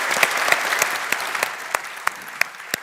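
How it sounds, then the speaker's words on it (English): Applause from a conference audience after a customer panel discussion, a steady patter of many hands with a few sharp individual claps standing out, moderately loud and fading slightly toward the end. "Can we all give the panelists a big round of applause and thanks for your time"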